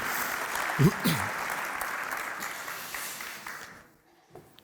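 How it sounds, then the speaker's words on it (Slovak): Audience applause at a public city-results event in Košice, a steady broadband wash of clapping that fades out near the end, with a brief voice breaking through early on. "Pre neho veľký potlesk."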